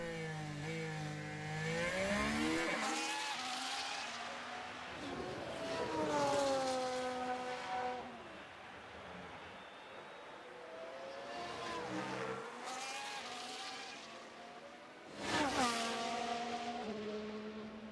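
Formula 1 race cars in F1 Manager 2023 scream past one after another, each high engine note rising and then falling in pitch as it passes, loud and clear with no talking.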